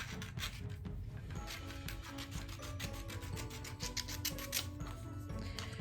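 Scissors cutting a strip of paper for making paper beads, a quiet, steady run of soft snipping and rubbing strokes close by, with no talk over it.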